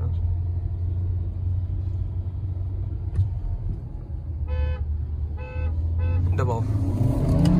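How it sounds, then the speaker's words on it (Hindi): During a drag race between a Hyundai Creta and a Kia Seltos, a car horn sounds in several short toots over steady road rumble and engine noise heard from inside the car. "हॉर्न सुन रहा हूं।"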